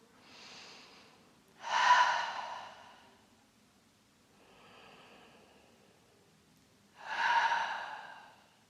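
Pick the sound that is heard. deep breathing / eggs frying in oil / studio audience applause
deep breathing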